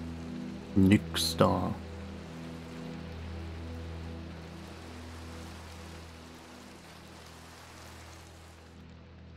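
Steady soft rain falls in the Minecraft video game, a continuous faint hiss that runs throughout, with a brief spoken remark near the start.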